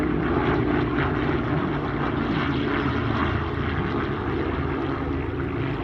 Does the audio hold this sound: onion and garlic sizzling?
no